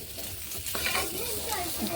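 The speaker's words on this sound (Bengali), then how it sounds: "এবার একটুখানি নেড়ে নিচ্ছি আমি এক মিনিটের জন্য ঢাকা দিয়েছিলাম ঢাকা দিয়ে যে কোনো সবজি ভেজে নিলে সবজি বেশ সফট হয়" Mixed winter vegetables such as potato, carrot and papaya sizzle in oil in a pan while a utensil scrapes and stirs through them, with the clatter of stirring over a continuous frying hiss.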